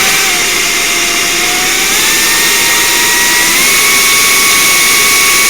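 A power drill cuts out a spot weld on the floor pan of a 1976 Cutlass, producing a loud, close, continuous high whine whose pitch climbs slightly as the cutter bites into the sheet metal.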